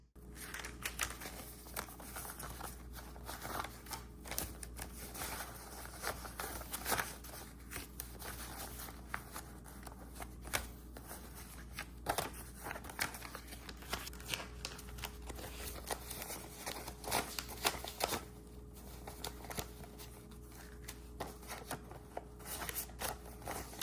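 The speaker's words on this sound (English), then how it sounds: "Let's go ahead and get you with the cash so we can get these envelopes stuffed." Paper cash is handled and stuffed into budget envelopes, with continuous close crinkling, rustling and flicking of bills and envelopes, quiet and busy throughout, and no speech.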